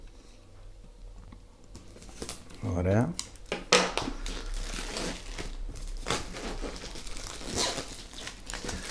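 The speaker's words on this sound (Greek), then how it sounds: "ας το ανοίξουμε σιγά σιγά, να βοηθηθούμε λίγο από ένα ψαλίδι" DJI Avata 2 drone packaging is opened with scissors, close crinkling, tearing and rustling of the wrapping mixed with snips and handling noises, while someone says a short word partway through.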